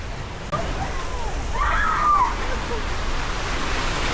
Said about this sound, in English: There's someone chucking buckets of water in there